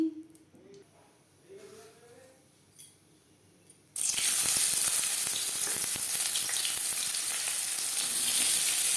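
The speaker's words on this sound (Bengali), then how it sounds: "চার চামচ রিফাইন্ড অয়েল গরম করে নিয়েছি" Four spoons of refined oil in a pan for a snake gourd fry: a quiet stretch with a faint voice, then a sudden loud, steady sizzle that fills the rest of the time.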